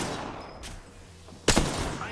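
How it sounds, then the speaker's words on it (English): Gunfire in the video game Apex Legends, a short burst of shots near the middle followed by a louder, heavier volley toward the end over ambient game noise. "I am taking fire, friends."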